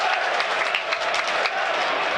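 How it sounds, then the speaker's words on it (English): A football stadium crowd at Burnley v Aston Villa in the Premier League roars and applauds, a dense broad wash of cheering and clapping at steady loudness with a voice talking over it. "Crowd certainly buoyed by that attack."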